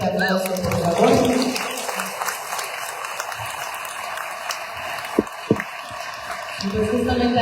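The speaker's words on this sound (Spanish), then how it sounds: "Un fuerte aplauso, por favor." A crowd at a talk on the Battle of May 4 claps for a local chronicler, dense applause that fades and thins to scattered claps and room noise, then swells again near the end, with some background murmur.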